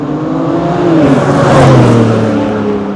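BMW G80 M3 engine and exhaust under way, a loud close drone with rising and falling tones as the car accelerates and shifts, the note swelling to a peak near the middle before settling.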